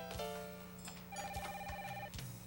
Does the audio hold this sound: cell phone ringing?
yes